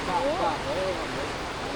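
A river runs beside a mountain trail in Marble Canyon, its constant rushing wash filling the clip while a brief faint voice rises over it near the start.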